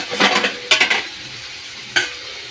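Meat fries in a pan during home cooking of an Assamese dish, with a few bursts of sizzling stirring and clanks of a utensil against the pan between quieter frying.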